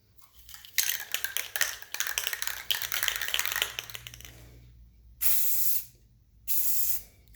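An aerosol can of spray paint rattles in quick clicking shakes for a few seconds, then lets out two loud, close hissing bursts of spray separated by a short pause.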